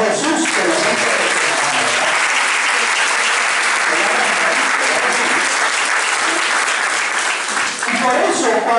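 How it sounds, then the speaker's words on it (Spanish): A church congregation claps together during a Lenten Sunday Mass, sustained and loud, with a broad wash of hands that holds steady throughout and dips only briefly near the end. "Denle un aplauso a Jesús que lo siente."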